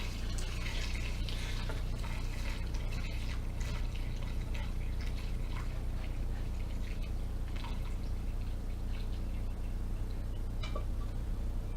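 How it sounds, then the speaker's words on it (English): Malt extract and hot water mix being poured from a pot into a Mr. Beer fermenter while brewing a saison, a steady close trickling and splashing of liquid that runs continuously with no talk. "Then I'm going to pour in my pot of the extract and hot water mix"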